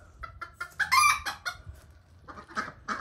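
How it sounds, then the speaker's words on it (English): Chicks and ducks in their pen, with repeated clucking and chirping calls close by, busy and overlapping with a burst of louder calls midway. "There's the ducks."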